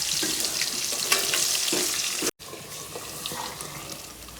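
Green chillies dropped into hot oil as tempering for a rice dish at a hometown festival in Harihara, a loud continuous sizzle and hiss with a brief cut partway through before the frying noise resumes.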